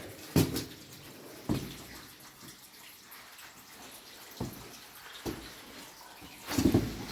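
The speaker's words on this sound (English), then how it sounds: "Just listen to that water coming down the stairs." Water runs and drips down stairs in an old underground tunnel, a steady wash punctuated by several loud irregular splashes and knocks echoing nearby.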